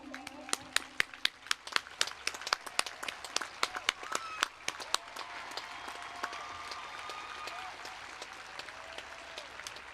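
A commencement audience at a university ceremony applauds the graduates' parents as they stand, with scattered sharp individual claps rising into steady, moderate crowd clapping while faint voices murmur beneath.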